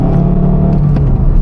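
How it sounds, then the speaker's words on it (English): A tuned diesel car revs loudly and steadily up close, its engine note a dense rumbling drone that holds through the short burst with no talking. "That sounds just like a car."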